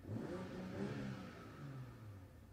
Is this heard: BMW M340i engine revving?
yes